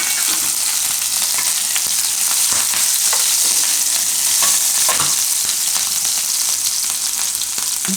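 Chilies fry in hot oil in a pan, a loud, dense crackling sizzle that holds steady throughout, with faint stirring clicks underneath.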